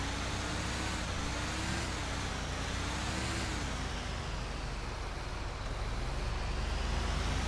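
Kawasaki ZX9 motorbike engine in GTA 5, a loud continuous drone that swells and dips as it revs, steady and close throughout.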